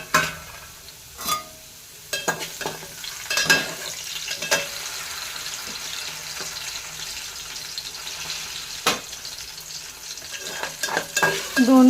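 Sabudana and potatoes stirred in a frying pan while cooking, with soft scraping strokes and a few sharper clinks over a light sizzle, close and steady.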